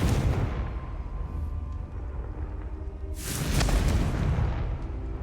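A Confringo spell explosion in the Hogwarts Legacy video game, a deep booming blast with a rushing whoosh that swells midway and then rumbles off, over a constant low ambient drone.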